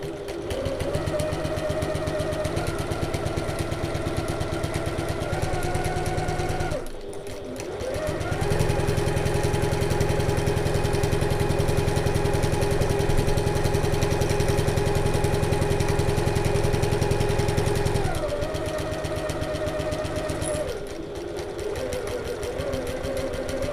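A domestic sewing machine runs steadily while stitching a bag seam with back stitching, its motor pausing briefly twice before resuming a continuous, fairly loud hum and rapid needle clatter.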